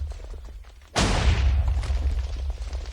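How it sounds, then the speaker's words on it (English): Explosion from a custom enchantment in the video game Minecraft, a sudden heavy boom about one second in followed by a rumbling, crackling decay that lingers to the end. "that was definitely a bigger explosion"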